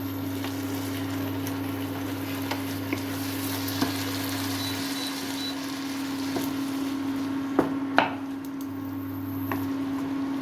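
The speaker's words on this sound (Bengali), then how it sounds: "এবার এটাকে ভালো করে নাড়ি চাড়িয়ে নিতে হবে" A curry of unripe jackfruit and prawns sizzles steadily in a pan over a constant low mechanical hum, with occasional faint scrapes and taps from stirring.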